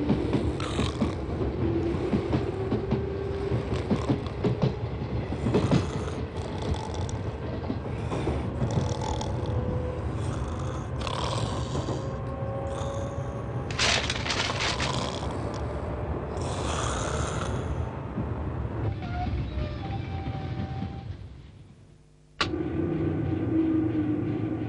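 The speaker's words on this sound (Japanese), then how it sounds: "はい、回送電車が発車いたします。" An out-of-service electric train pulls away from a Japanese station, a loud continuous rumble with squeals and clanking for over twenty seconds, briefly dropping away before resuming close by.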